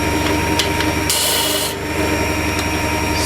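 A file rasps against wood while squaring up the edges of a small ship-model part, making loud, close, continuous rubbing strokes with one brighter harsh stroke in the middle.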